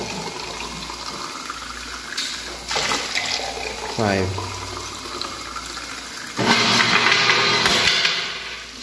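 An automated liquid vending machine with a change dispenser pours water into a cup, with several short bursts of splashing and filling sounds, the loudest near the end, while someone talks nearby.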